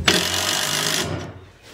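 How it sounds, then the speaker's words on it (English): A power driver spins a bolt into a Simpson Strong-Tie HDU hold-down bracket on lumber, giving one loud, steady whirring burst of about a second that cuts off and fades. "since I can't get a drill in there, I'm going to just drive them in."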